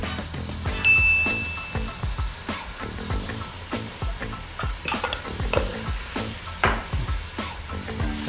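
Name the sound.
sautéing and stirring chicken sopas ingredients in a pan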